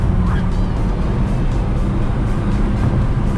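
A slow car drives a mountain touge course, its engine a loud, steady drone heard from inside the cabin throughout.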